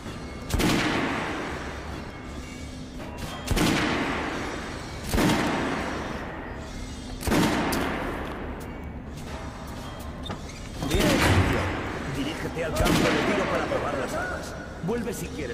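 Rifle fire in the shooter game Metro Last Light Redux at a firing range: about six sharp, loud shots spaced roughly two seconds apart, each with a short echoing tail, while a voice talks between them.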